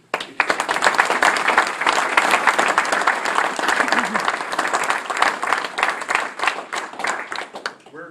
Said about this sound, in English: I think all of you should give him a round of applause